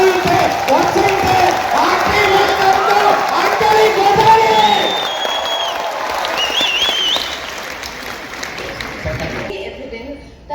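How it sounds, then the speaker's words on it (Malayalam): An audience at a Kerala program claps and shouts enthusiastically, steady loud applause with cheering and whoops over it, easing slightly near the end. "നന്നായിട്ടൊന്ന് കൈയടിച്ച് നിങ്ങൾക്ക് പറ്റുപോലെ കോടിയിട്ട് ഒച്ചയിട്ട്"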